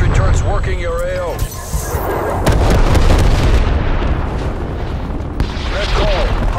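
Napalm strike explosions in the Call of Duty Black Ops Cold War video game, a loud rolling series of booms and bursts layered with game voices and radio chatter.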